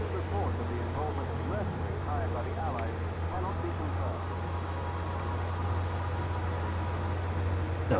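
A timer in the video game Mercenaries gives a short, faint electronic beep partway through, set over a constant low hum and soft game background noise.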